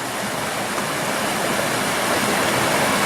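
Relief Valley Creek pours into the reservoir near Kennedy Meadows, a steady, close rush of flowing water filling the whole stretch with no voices.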